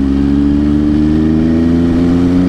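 A three-cylinder MV Agusta F3 800 sport motorcycle engine drones loudly and close at a steady high pitch, holding its revs for a couple of seconds.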